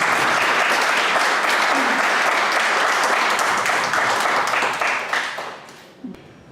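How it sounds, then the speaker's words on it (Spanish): Loud, dense applause from an audience at a book presentation event, sustained for several seconds before tapering off near the end. "pido un fuerte aplauso"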